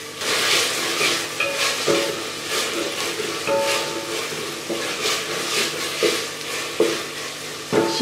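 Sliced capsicum fries in a pan with a continuous hiss and sizzle, broken by repeated scraping stirs roughly every second, close and moderately loud, with no talking.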